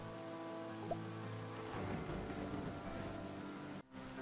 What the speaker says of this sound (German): Der Traktor kommt. Es wird gemäht.